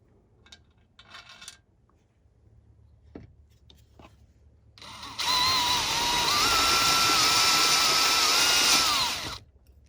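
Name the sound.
power drill with 1/4 inch bit drilling soft metal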